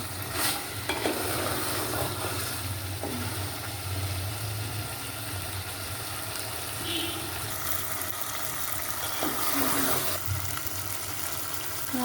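Meat sautés and is stirred in a hot pan with spices, giving a continuous loud sizzle and frying hiss. Scraping stir strokes surface now and then over the constant crackle.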